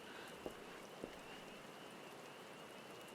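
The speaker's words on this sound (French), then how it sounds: "Il pleut toujours à Gridania, par contre." Steady rain falls over the forest town of Gridania in Final Fantasy XIV, a soft, even hiss that runs throughout, with a couple of faint drip ticks near the start.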